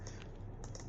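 Quick keystrokes on a computer keyboard while a short word is typed into a spreadsheet, a few close, crisp clicks in a brief burst with no talking.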